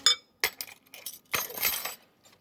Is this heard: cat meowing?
no